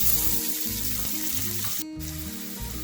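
Whole spices, cashew nuts and onions sizzle steadily in hot oil for a fried chicken curry, with a continuous close frying hiss and a brief sharper burst near the end.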